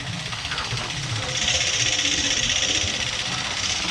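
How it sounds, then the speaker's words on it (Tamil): A steady, close engine drone from a vehicle on the move with a father at the wheel, a continuous mid-pitched hum and hiss that rises slightly partway through without any break. "அப்பா தான் வண்டி ஓட்டுறாரு"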